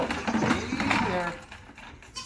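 A goat bleats while being lifted into a bucket for weighing, its cries mixed with a person speaking close by and some handling noise.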